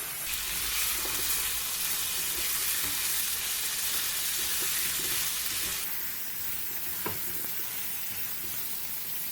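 Chicken drumsticks fry with whole spices and grated ginger in a hot pan, a loud, dense sizzle with faint stirring, easing slightly partway through before a brief utensil tap.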